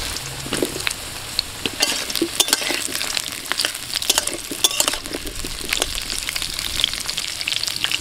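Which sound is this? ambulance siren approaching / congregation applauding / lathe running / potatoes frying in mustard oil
potatoes frying in mustard oil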